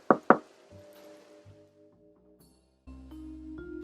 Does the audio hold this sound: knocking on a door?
yes